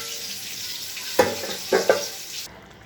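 Chicken pieces frying in a pan while being cooked down for chicken kosha, a steady close sizzle with a few sharp utensil scrapes and clinks as it is stirred, ending abruptly.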